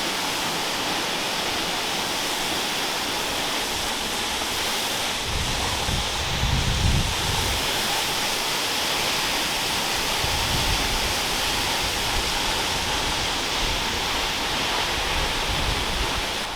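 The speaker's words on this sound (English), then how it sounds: "I can feel the spray off the waterfall." A small waterfall in the Valleys roars in a steady, dense rush of falling water, loud and close with spray, holding constant for the whole stretch with slight surges of low rumble midway.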